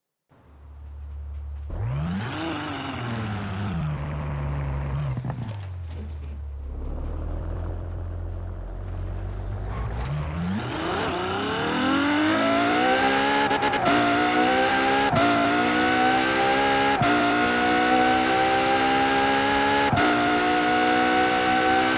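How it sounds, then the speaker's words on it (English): Apollo Intensa Emozione car engine in Forza Horizon 4, loud and steady, idling low, then revving up and holding a high, strained drone with brief gear-change dips. "Well, there's the car sound."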